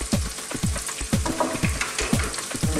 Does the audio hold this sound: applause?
no